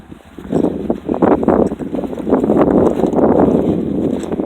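Strong wind in a Canadian winter buffets the microphone outdoors, giving loud rumbling gusts that build and stay steady throughout, with no talk.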